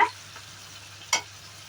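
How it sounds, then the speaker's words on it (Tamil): Two brief scraping strokes of a spoon through mutton pepper fry sizzling in a pan, one at the start and one a second later, over a low steady hiss. "ஆட் பண்ணி நல்லா மசாலா இந்த கறியில் சேர்ற அளவுக்கு நல்லா கிளறி விட்டுறலாங்க"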